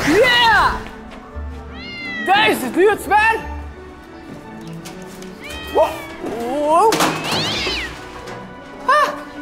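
A cat meows repeatedly in a cartoon scene, with several drawn-out, rising and falling meows spread across the stretch and one near the end. Voices talk over and between the cries.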